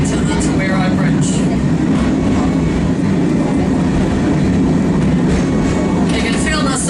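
A small heritage waterfront tram in New Zealand rumbles along its rails with a continuous low roar and faint squeals and rattles, rocking as it goes, loud and close throughout.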